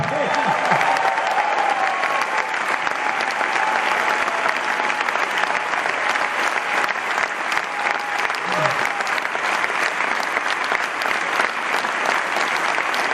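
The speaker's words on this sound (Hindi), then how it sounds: "जोरदार तालियां" Loud, sustained applause from an audience at a motivational talk, many hands clapping densely and evenly for the whole stretch, with faint voices beneath.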